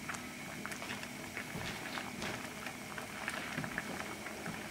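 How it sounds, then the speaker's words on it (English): Onion and spinach soup, dairy-free and creamy, bubbling steadily in a pot, a dense continuous patter of small pops and crackles at close range with no talk. "as you can see the way it's boiling, it's almost like a sauce"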